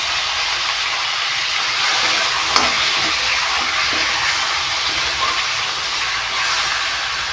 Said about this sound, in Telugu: ఇక్కడ మనము చికెన్ కూడా ఫ్రై చేసుకుందాం